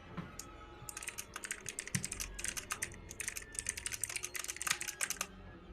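Rapid, steady computer keyboard typing clatters close by for several seconds, with dense overlapping key clicks and no talking.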